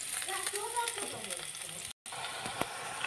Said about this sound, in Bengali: এখন আমি কই মাছ ভুনা করার জন্য, কষানোর জন্য তেল দিয়ে দিলাম।